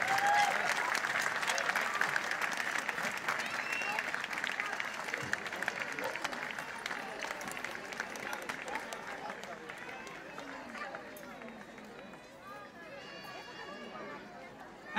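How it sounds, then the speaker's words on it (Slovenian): Audience applause at a Slovenian Armed Forces music concert, steady clapping that thins and fades over time, with crowd chatter and some voices mixed in. "En aplavz za Tomija"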